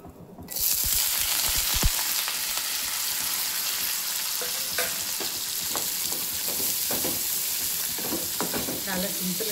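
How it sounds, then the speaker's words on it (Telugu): Sliced onions hit hot oil and start frying, with a sudden burst of sizzling that holds as a steady loud hiss. Scattered clicks and scrapes of a utensil sound in the pan. "మనం ఈ ఉల్లిపాయలు నూనెలు వేసేద్దాము"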